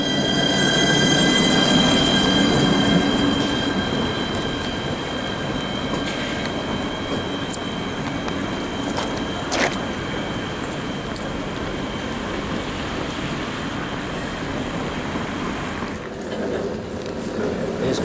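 A train rumbles steadily nearby at a French station, with faint metallic squeals and clicks over a continuous low roar, like a train moving through a station.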